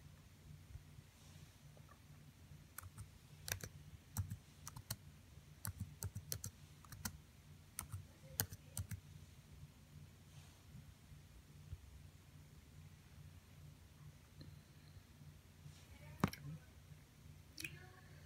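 A computer keyboard is typed on in short, irregular bursts of light, close clicks, with pauses between keystrokes over a quiet room hum.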